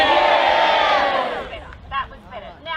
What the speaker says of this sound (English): give us a cheer if you're here